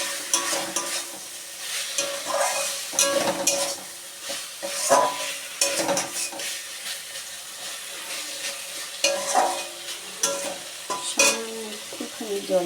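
Flat beans with a little sugar are stirred in a frying pan over a steady sizzle, with repeated scraping strokes of a utensil against the pan at an uneven rhythm.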